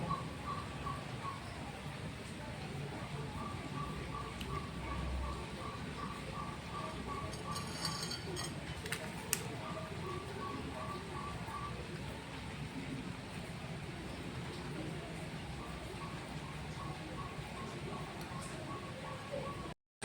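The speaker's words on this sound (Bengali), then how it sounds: "আর এখনো বৃষ্টি পড়েই যাচ্ছে" Steady rain hisses throughout, a dense broadband wash with birds chirping faintly in the background and a brief sharp knock partway through.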